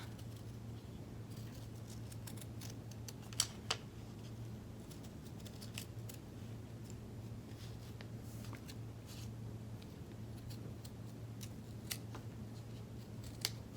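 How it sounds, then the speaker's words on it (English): Scissors snip through felt around a heart shape with quiet, crisp cuts spaced irregularly over a steady low background hum. "You can just hold it on there while you cut, and you're going to cut around the edge of the heart."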